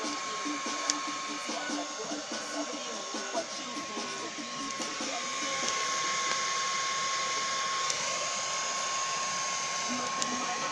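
Hair dryer blowing air to get a campfire going in freezing -15°C frost, a steady loud whooshing hum that persists throughout and swells slightly midway, with voices talking intermittently underneath.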